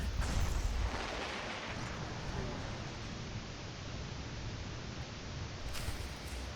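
Cannon fire from Aegis base in a Star Wars video game makes a dense, roaring rumble of blasts and battle noise, loud and continuous throughout.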